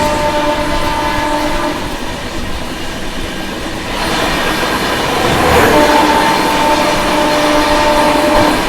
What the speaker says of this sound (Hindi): मथुरा से निकलते ही महाकौशल का ओवरटेक हो रहा है।